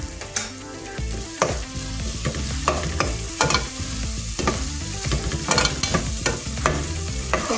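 Spices such as cumin and coriander powder frying in oil for a curry, with steady sizzling and repeated scraping strokes of a spoon stirring the pan, close and continuous, no talking.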